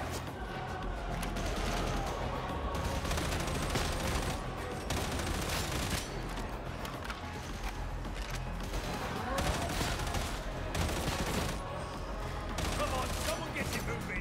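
Dense, continuous gunfire and shotgun blasts from the Warhammer video game, rapid bursts stacking into a steady fusillade throughout, with a voice talking over the din.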